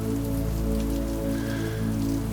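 Steady rain pattering on a window during a cool, rainy afternoon, a soft continuous patter with a low, even hum beneath it and no voices.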